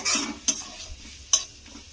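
Spices frying in a pan for a potato and chhatu dish, a short quiet stretch of soft sizzling broken by three sharp metallic stirring scrapes, close by, no speech.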